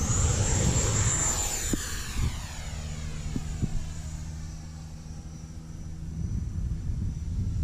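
A Marlin EDF radio-controlled jet from Arrows RC flies past with a high ducted-fan whine that is loud at first, then recedes with a falling Doppler sweep as it moves farther away.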